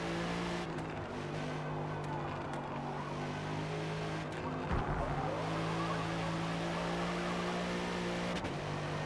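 Race car in Forza Motorsport, a steady loud engine drone with strong harmonic tones and faint tire squeal, holding on continuously with small shifts in pitch.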